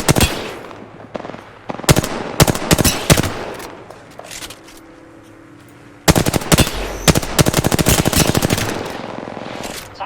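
Automatic gunfire in a battle royale shootout in Apex Legends, with dense rapid bursts, sharp single shots and a quiet pause before another long, loud volley resumes.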